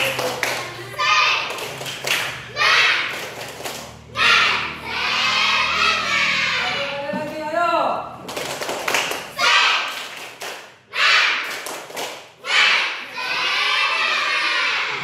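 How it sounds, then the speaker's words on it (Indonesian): A group of schoolchildren performs a rhythmic spirit clap in class, sharp bursts of clapping in patterned rounds broken by short pauses, with a teacher's voice and children's chanting between the claps. "Ayo kita lakukan tepuk semangat 2 kali"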